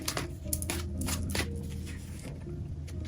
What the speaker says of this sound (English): I don't know why I'm shuffling.